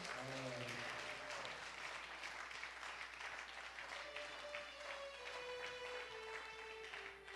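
A church congregation claps steadily for the Lord throughout, a dense wash of applause over a sustained musical tone.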